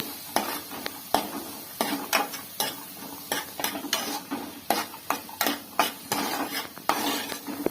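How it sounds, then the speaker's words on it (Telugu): Onions, carrot and capsicum frying in butter in a pan for pasta, a soft sizzle under regular, close scraping strokes of a spatula stirring the vegetables, with no talk. "ఉల్లిపాయలు, క్యారెట్, క్యాప్సికమ్ వేపుకుందామండి"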